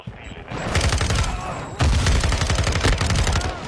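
Dense automatic gunfire crackles in rapid bursts during a PC multiplayer match of Modern Warfare 2, loud and close, with a brief lull before another sustained volley.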